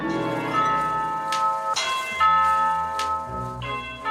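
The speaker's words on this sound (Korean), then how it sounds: "갑부의 단잠을 깨우는 초인종 소리." A doorbell chimes inside a wealthy man's home while he naps, its clear ringing tones repeating and sustaining over several seconds with no talking.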